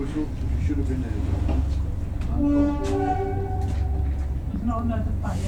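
A heritage railway train's whistle sounds as a tonal blast over a steady low rumble of the railway, with people talking nearby.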